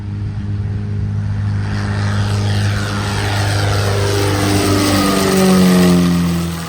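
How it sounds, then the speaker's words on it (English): Propeller airplanes at X-Ray 04 Airport in Apopka preparing to take off, a steady loud engine drone with a rising tone that swells toward the end, no talking. "It's some airplanes about to take off"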